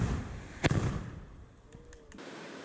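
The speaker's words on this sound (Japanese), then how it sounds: "爆発音とともに筒の下から炎が噴き出す瞬間" A handheld tube firework at the Toyohashi Gion festival in Japan goes off with a single sharp, loud blast, followed by a fading hiss and small crackles over a busy festival crowd.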